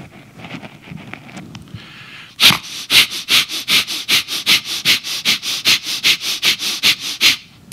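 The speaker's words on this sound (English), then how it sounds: "The breath of fire is done like this. You pump your abdomen in and out in a rapid motion" Breath of fire breathing exercise: about twenty rapid, forceful nasal exhalations in an even quick rhythm, loud and close, following a few seconds of quieter breathing.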